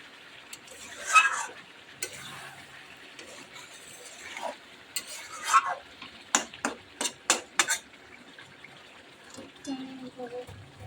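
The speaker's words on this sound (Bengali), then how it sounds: "আমি লো ফ্লেমে দিয়ে গ্যাসে এইভাবে কষাবো" A spatula stirs and scrapes food in a pan on a low gas flame, giving quiet, scattered clinks and a run of quick taps in a soft, uneven rhythm, with faint kitchen noise between strokes.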